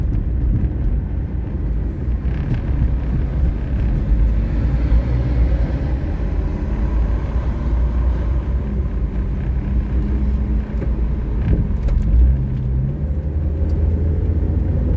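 A truck overtakes on a road near Dubai Industrial City, heard as a steady loud engine and tyre rumble from inside a moving vehicle, with no talk.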